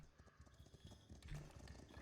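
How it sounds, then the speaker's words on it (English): Horse hooves clip-clop in a Riverarch video game, a faint, steady run of soft hoof beats in the distance under busy ambient game noise. "Now I hear a horse again."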